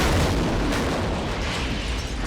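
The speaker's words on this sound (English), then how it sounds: "Will shooting bullets at the gas tank actually make it blow up?" A car's gas tank blows up at a shooting range in a loud, broad roaring blast that fills the clip and holds for about two seconds without fading much.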